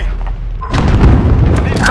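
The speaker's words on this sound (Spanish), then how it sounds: "Tira granada, tío. Tira granada." A grenade blast in a multiplayer shooter match: a sudden loud boom about two-thirds of a second in, followed by rumbling, crackling game noise, with voices talking over it.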